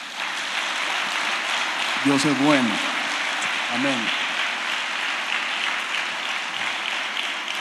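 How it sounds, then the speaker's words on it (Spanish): A church congregation claps steadily throughout, a broad even patter of hands with a preacher's voice briefly speaking over it. "¿Por qué no le da un aplauso al Señor?"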